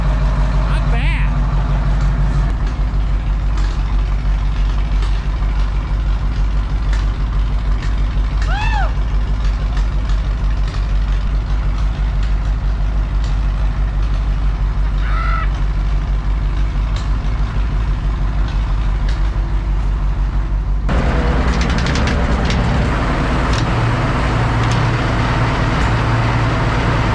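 An old road grader's engine runs close by with a loud, steady low rumble that continues throughout and shifts in tone near the end, while people talk over it.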